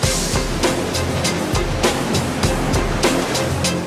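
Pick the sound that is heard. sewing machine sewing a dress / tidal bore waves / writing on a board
tidal bore waves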